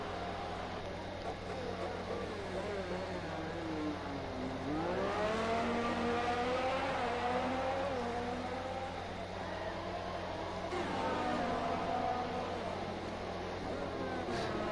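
Race cars in an Austria Grand Prix racing game on a wet track, engines droning and revving steadily throughout with rising pitch sweeps as cars accelerate, mixed under continuous commentary.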